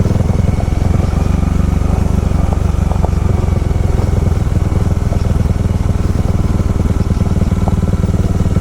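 Honda Rebel motorcycle riding off-road toward a campsite, a steady close engine drone with constant rumble and wind noise throughout.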